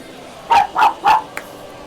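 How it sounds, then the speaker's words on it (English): Dogs bark three times in a quick, even series, loud and close. A faint click follows, with no other sound. "You can hear dog barking in the background."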